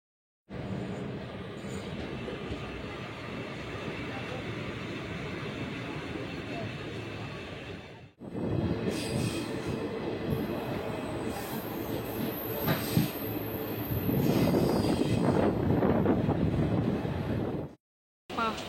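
An unreserved passenger train from Kollam to Chennai Egmore rumbles steadily along the rails, with continuous clattering and occasional high wheel squeals, loud and close from inside the carriage.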